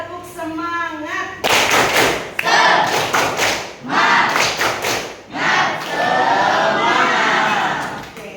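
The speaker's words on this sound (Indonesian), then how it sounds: "Tepuk semangat." A school class performs the Tepuk semangat clapping chant in a classroom, with bursts of loud rhythmic clapping and shouted chanting from many children, separated by brief pauses.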